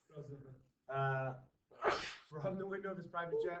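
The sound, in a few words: sneeze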